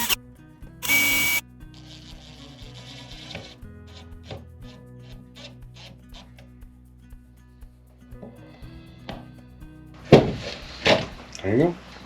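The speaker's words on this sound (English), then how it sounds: "grab the drill and carefully drill them in" A power drill drives screws through hinges into a rough-cut pine birdhouse lid, heard as short, close whirring bursts with clicks and tool handling between them, ending in louder clattering.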